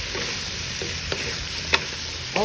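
Chayote pieces hit a hot pan of already-cooked sausage and sizzle steadily, with a few scraping stirs of a utensil rising above the constant frying hiss.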